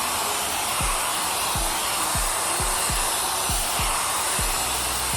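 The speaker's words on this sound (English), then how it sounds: "Like I'm blow drying with a hot temperature from both sides." Hair dryer on a hot setting blowing hair dry, a loud steady close-up rush of air with faint regular low thumps running underneath.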